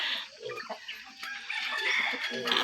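Chickens cluck close by in a rural yard, giving scattered, irregular clucks and squawks over a faint background murmur.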